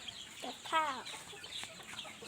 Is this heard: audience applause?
no